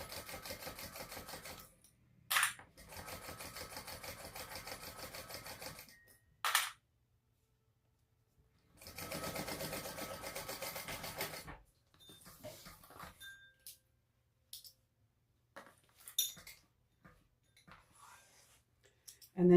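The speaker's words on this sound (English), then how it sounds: "So we're stitching these together now, starting to create our front feature panel." A domestic sewing machine stitches the seams of a crossbody bag's front feature panel in several separate runs of rapid, even needle chatter, close and clear, with short pauses between bursts.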